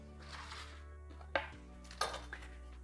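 A pan is handled on a smoker setup for queso, giving two distinct metallic clanks about half a second apart over a low steady hum, then a faint tap.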